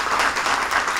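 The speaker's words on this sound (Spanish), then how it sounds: "Bueno, un aplauso merece eso." Audience applause at an address by a Venezuelan attorney general, a steady wash of many hands clapping that fills the whole second at an even level.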